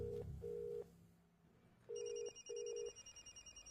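A phone rings in electronic bursts of repeated tones, pausing between rings, loud and close with no talk over it.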